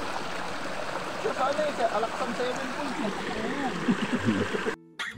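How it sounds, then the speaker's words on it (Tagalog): A river flows beside a forest mountain-bike trail, a continuous rushing babble of water heard nearby, with a person talking over it for most of the stretch before a brief dropout near the end. "May ilog kayong madadaanan dito."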